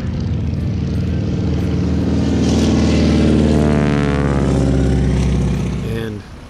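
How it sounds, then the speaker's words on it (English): Stearman biplane taking off from a grass field at a reunion, a loud droning propeller engine whose pitch sweeps as it passes close by, then fades toward the end. "A lot of folks just sitting out watching the aircraft. It was kind of great to see just a ton of folks out on the flight line watching the aircraft taking off and landing."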